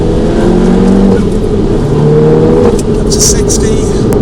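A VW Golf GTI Clubsport S pulls hard in second gear along a winding moorland road, its engine note rising steadily and loud inside the cabin while a voice talks over it.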